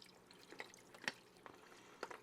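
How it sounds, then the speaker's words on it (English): Retrobrite solution poured gently into a foil-wrapped container, faint soft splashes and drips spread across a couple of seconds in a quiet room. "Now I'm gently going to pour in the solution."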